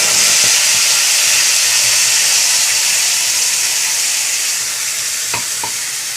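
Black cumin paste frying in hot oil in a wok, a steady bright sizzle with hiss, stirring throughout and a couple of brief clinks near the end.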